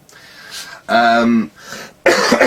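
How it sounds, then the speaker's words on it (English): A man clears his throat a couple of times, short raspy bursts close to the microphone. "just clear my throat a little bit there"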